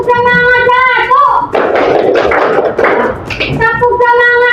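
A classroom of students performs a rhythmic group clapping chant, a burst of loud claps in a quick pattern sandwiched between an adult's sung or spoken call, with children's voices mixed in.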